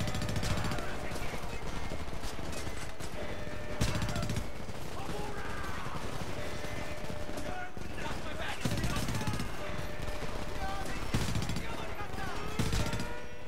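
Machine gun fire in the war video game Homefront, rapid bursts erupting at intervals over a busy battle din, with voices talking throughout.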